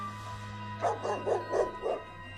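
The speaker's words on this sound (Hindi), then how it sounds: "वो कुत्ता पटरी के ऊपर था और पता नहीं क्यों जोर जोर से भौंके जा रहा था।" A dog barks five times in quick succession on the tracks at a railway station, short yelping barks over a low steady hum.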